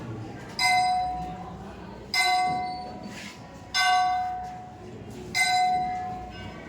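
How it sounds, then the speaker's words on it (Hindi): An electric school bell rings in a classroom during an English grammar lesson, four bright metallic rings with ringing decay, each a second or so apart, over quiet room noise. "ये कौन घंटा लगा?"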